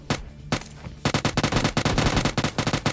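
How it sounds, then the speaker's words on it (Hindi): Rapid automatic gunfire in a battle royale shooter game, a couple of single shots followed by a dense, loud sustained burst of rattling rounds. "गन शॉट्स की मेरे को आवाज़ आ रही स्क्वाड्स की तरफ से"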